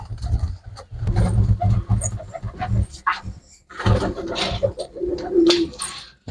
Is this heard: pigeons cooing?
yes